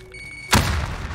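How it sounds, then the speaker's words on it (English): A grenade blast in the video game Call of Duty Modern Warfare lands as a sudden heavy thump with a deep rumbling boom that lingers briefly, following a quiet hum. "Grenade out!"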